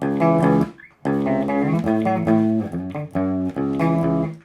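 A clear electric guitar riff from a song's intro plays alone, close and fairly loud, with a brief pause before the repeated chordal phrase continues.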